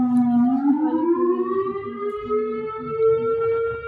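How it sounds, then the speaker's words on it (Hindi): A siren marking the end of the Ramadan fast at iftar wails in a single long rising tone that climbs and then holds, loud and clear with faint background murmur beneath. "इतने में सायरन बज गया।"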